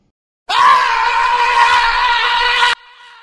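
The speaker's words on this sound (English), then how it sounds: "I am so angry, so angry that I'm gonna scream." An angry cartoon character screams, one long loud strained cry held for about two seconds before cutting off abruptly.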